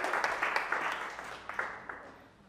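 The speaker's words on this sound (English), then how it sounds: "Big round of applause." A conference audience at DAOfest Amsterdam applauding, a dense patter of clapping that starts full and gradually fades over a couple of seconds.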